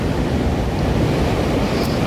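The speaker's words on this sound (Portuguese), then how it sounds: "mas conforme ele vai batendo na areia, vai meio que a areia vai entrando para dentro do mar" Sea surf rolls steadily onto the sandy beach at Atafona, São João da Barra, Rio de Janeiro, a continuous loud wash of breaking waves mixed with wind buffeting the microphone, with no voices.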